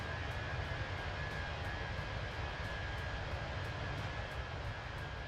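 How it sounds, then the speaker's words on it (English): A loud, steady aircraft engine drones in Microsoft Flight Simulator 2024, a continuous airliner roar with faint rhythmic pulsing heard from inside the plane, with no talk. "Bit loud, that engine, isn't it?"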